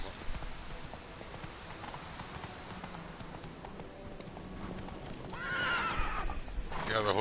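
A horse in The Witcher 3 whinnies sharply near the end, following steady hoof clip-clops and a soft rain-like hiss, with a voice talking over the game audio.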